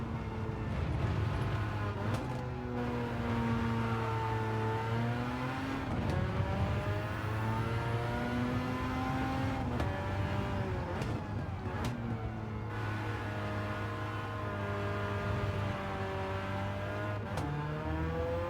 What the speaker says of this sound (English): It's only a little car on two rotors, so it's a 1300cc engine